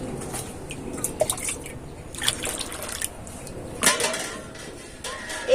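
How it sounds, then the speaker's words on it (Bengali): Water poured into a bowl of cornflour paste in a home kitchen, a soft trickling and dripping with small splashes over several seconds, fairly quiet and close, with no talking. "এবার আমি এর মধ্যে জল দিয়ে দেব।"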